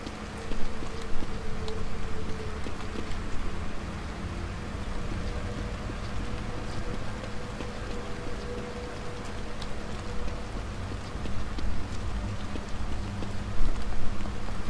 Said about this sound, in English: Rain is gonna wash away any evidence.